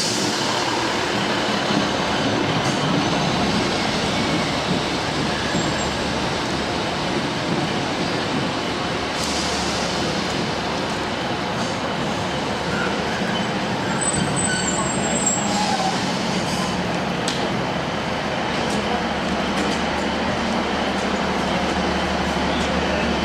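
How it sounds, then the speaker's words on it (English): A single-coach passenger train pulls in on the Felixstowe branch line in the rain, a loud continuous rumble and rolling hum holding steady close by throughout, with faint high squeals above it. "This, I imagine, is the arrival of the 59 or 58 train, which I'm catching to Felixstowe."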